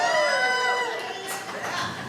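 A live theatre audience cheers and shouts at a comedy stage show, a short burst of crowd noise that fades quickly behind the action on stage.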